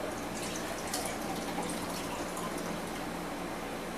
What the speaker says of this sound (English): Here, I'll pour it in a sand dollar cup.